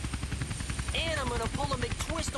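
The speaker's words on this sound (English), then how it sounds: "Cops immediately with a helicopter." Helicopter in the Tony Hawk's Underground video game, rotor blades chopping in a fast steady rhythm close by, loud throughout, with a voice talking over it partway.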